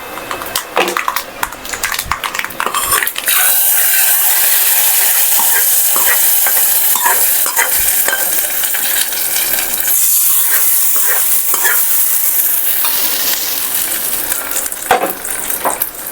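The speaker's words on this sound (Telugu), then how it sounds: "ఈలోపు మనం స్టవ్ తగ్గించేసి పోపు దాంట్లోకి వేసేద్దాం" A popu tempering for pachipulusu sizzles loudly in a pan on a lowered stove while a utensil scrapes and stirs it, steady hiss throughout with intermittent clinks and scrapes.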